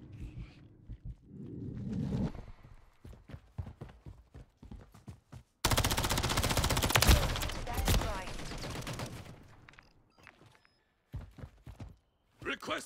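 Rapid bursts of automatic gunfire from a Call of Duty firefight, loud and dense, opening after scattered shots and footsteps and then breaking off, with radio-style voice callouts heard around it.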